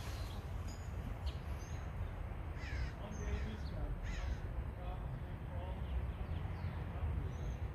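A crow caws a few times, faint and somewhat distant, over a steady wash of outdoor background noise.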